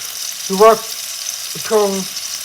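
Steak sizzles steadily in a pan, a constant close frying hiss broken by two brief tonal sounds.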